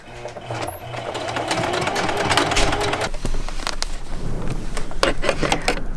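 Sewing machine stitching a thrifted custom jacket, running in a fast mechanical whir with rattling needle strokes and a few scrapes and knocks, close and fairly loud with no talk over it.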